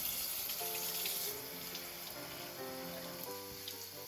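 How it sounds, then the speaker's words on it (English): Water runs steadily from a tap into a container of sprouting microgreens, a continuous splashing hiss, while faint tonal music plays underneath. "Add some water."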